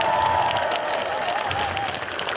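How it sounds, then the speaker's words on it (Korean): Steady, dense applause from a festival audience after a pumba gakseori street performance, sustained and fairly loud throughout, with a faint tonal whine running underneath and no voices over it. "이러면서 박수 안 치는 사람 정말 나쁜 사람입니다."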